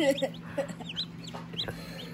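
Newly hatched chicks peep in quick, high chirps from an incubator hatch, a near, busy run of short calls over a low steady hum.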